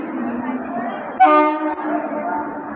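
A train horn blasts once for about half a second at a crowded railway platform in Diva, rising loud over steady platform rumble and crowd noise.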